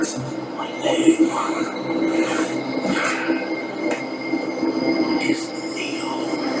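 Subway train rumbles and clatters into a station in a film scene from The Matrix, with squealing wheels and metallic clicks under a steady low roar, while faint voices are heard beneath.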